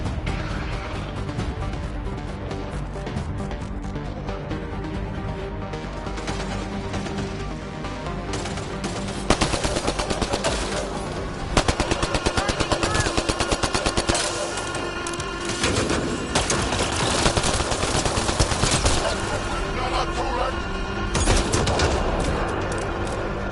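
Dense, continuous gunfire from a Mass Effect Andromeda firefight, sharp shots and bursts layered over a busy game soundtrack, with heavier impacts growing louder past the midpoint.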